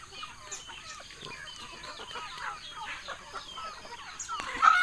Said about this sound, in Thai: อันนี้จะเป็นไก่ลาย